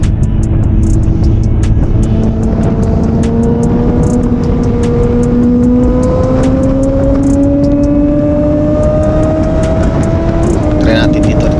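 A 1000RR motorcycle engine, just after a cylinder head gasket replacement, runs steadily throughout, its pitch slowly rising as it revs higher, loud and close with a constant roar.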